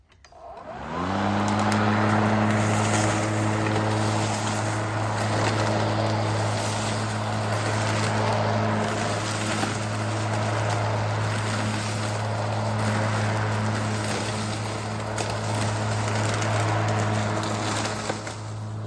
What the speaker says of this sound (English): we're going to use this electric Stihl mower